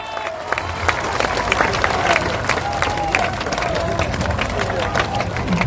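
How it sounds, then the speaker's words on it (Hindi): A crowd at a Jan Suraaj party gathering applauds and cheers steadily to welcome a new party president, a dense, continuous wash of clapping and voices throughout. "मैं एक बार चाहूंगा कि सब लोग ताली बजाकर स्वागत कीजिए"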